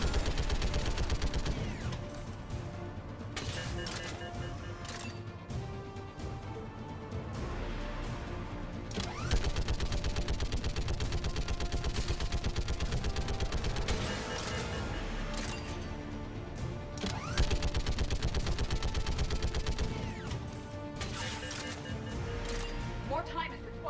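Repeated gunfire from a weapon in the video game Mass Effect 3, loud dense bursts sustained throughout alongside in-game music and effects, with voices speaking over the action.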